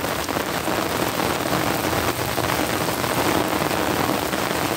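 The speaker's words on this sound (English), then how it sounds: "Rain is coming down hard as hell now." Heavy rain pours steadily by a creek, a dense, continuous roar of drops hitting water and surfaces, loud and unbroken throughout with no voices.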